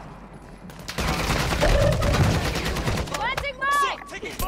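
Gunfire crackles through a Call of Duty: Warzone match, dense bursts of shots running under a player's urgent voice and in-game callouts, loud and close throughout.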